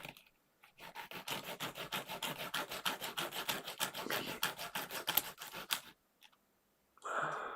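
Quick rhythmic back-and-forth rubbing on a small part from a 1/35 scale model kit of a Dora railway gun, about twenty close scraping strokes, then a pause and a brief rustle.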